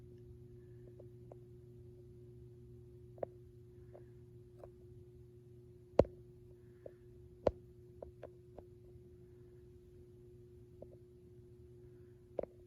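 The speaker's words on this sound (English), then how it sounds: "The ballast is humming quite loudly." A clear Iwasaki EYE 100 W mercury vapor lamp's ballast gives off a steady low electrical hum throughout, joined by a few sharp isolated clicks and ticks.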